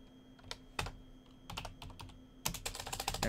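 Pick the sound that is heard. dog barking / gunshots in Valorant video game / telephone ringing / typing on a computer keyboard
typing on a computer keyboard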